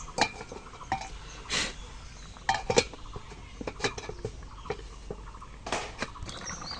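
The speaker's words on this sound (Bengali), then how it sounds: "এখন ঢাকা দিয়ে দিচ্ছি।" A lid set onto a cooking pot while making a bottle gourd and shrimp dish, heard as scattered metallic clinks and taps with a louder clatter near the start and middle, close over a low kitchen hum.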